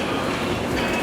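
Low rumbling hum of a Tokyo subway train, a steady close drone of running gear with no distinct events.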